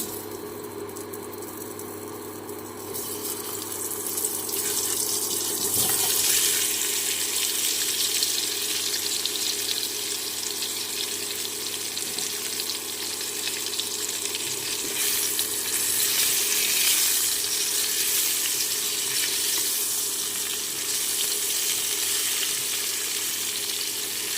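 Mango pieces fry in hot oil in a kadai with nigella seeds and dried red chillies. A quiet start gives way to a loud, continuous sizzle with occasional rattling stirs.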